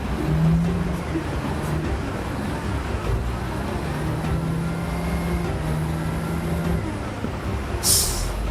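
A dump truck leaving a rock quarry that crushes stone into sand, its engine droning steadily up close with a hiss of air brakes, amid continuous roadway noise.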